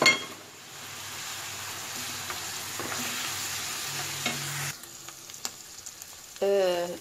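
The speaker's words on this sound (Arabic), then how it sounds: "غادي نحطهم يتشحروا شويه فوق النار" Chopped onion and pepper frying in a pan, a soft continuous sizzle close by with a few stirring clinks, then quieter moments and a brief squeaky sound near the end.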